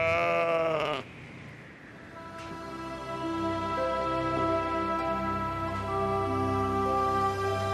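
Sheep on a dormant volcano bleat in long, wavering cries close by, one after another, with a dense chorus of overlapping bleats continuing without pause.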